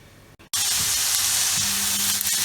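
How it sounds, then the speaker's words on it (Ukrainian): Potatoes frying in hot oil in a pan, with a loud, steady sizzle that starts abruptly after a short quiet moment and continues unbroken close to the microphone. "на сковорідку в розігрітій олії піджарю"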